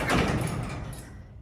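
A camper door pulled shut by hand gives one solid thud and rattle, then fades into quiet.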